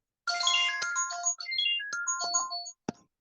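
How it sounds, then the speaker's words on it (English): A phone ringtone plays a bright electronic melody of rising and falling tones, loud and close, running about two and a half seconds with no one talking over it, then breaking off after a short final blip. "Can you hear my phone ringing?"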